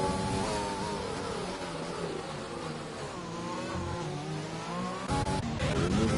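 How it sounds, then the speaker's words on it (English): Racing engines roar continuously in a Grand Prix Legends sim race at Belgium, with a car's tires spinning and squealing over the steady engine drone, loud and busy throughout, a sharper burst of noise near the end. "Alba Kings, you can hear that, has a little bit of tire spin"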